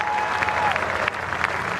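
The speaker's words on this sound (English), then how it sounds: "He walks off to a good round of applause" A cricket test match crowd, Australia against New Zealand, applauds as a batsman walks off, giving a steady, fairly loud wash of clapping with a few sharper claps standing out.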